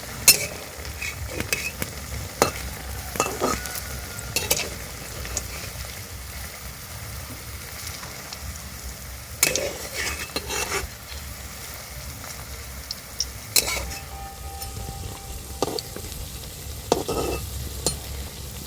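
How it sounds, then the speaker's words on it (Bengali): Semolina-filled sweets sizzle in oil in a kadai over a medium flame. A constant frying hiss runs throughout, broken by sharp scrapes and taps of a spatula at irregular intervals. "এই যে মিষ্টিগুলো ভাজছি"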